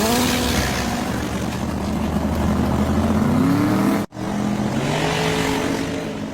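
Drag race cars launching at Santa Pod, including a twin turbo V8 Pro Mod, with a loud, sustained engine roar that rises and holds, briefly cuts out, then surges again close by.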